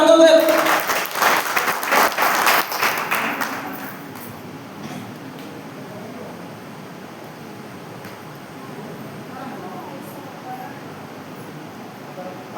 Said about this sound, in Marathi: त्याच्यासाठी एकदा जोरदार टाळ्या वाजवूया